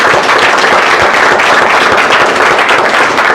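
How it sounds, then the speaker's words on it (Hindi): A large audience claps loudly for a speaker in a dense, continuous roar of applause that fills the room without pause. "एक बार सर के लिए ताली बजा दीजिए"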